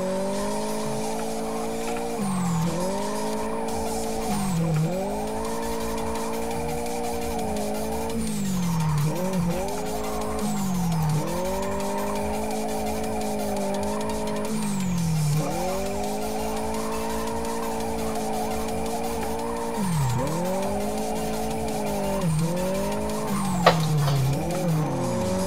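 Car drifting in the Live for Speed racing game, engine revving up and down in repeated cycles with continuous tire squeal, loud and steady throughout, with a brief sharp click near the end.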